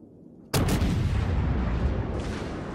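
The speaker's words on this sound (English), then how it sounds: "Let's get another shot on this Amagi here." Heavy naval guns of a Royal Navy Nelson-class battleship fire in World of Warships, one sudden loud blast followed by a sustained rumbling boom that slowly tails off, with no talking.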